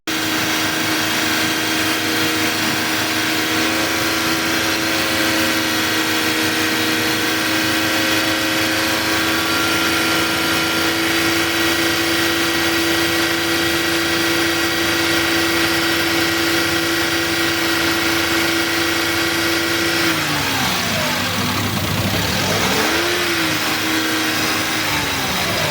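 A Toyota Agya car engine, suffering stalling and overheating, idles steadily after being started and left to warm up, a constant close hum that wavers and dips near the end.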